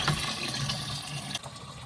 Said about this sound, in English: So I'll put the water pressure directly on or in that area so that it can mix up some.